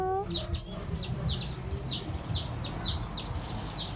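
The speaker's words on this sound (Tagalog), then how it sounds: "Yan, narinig niyo yung mga ano. May mga manok din." Several chickens cluck and chirp repeatedly at a moderate distance, over a low, steady rumbling background.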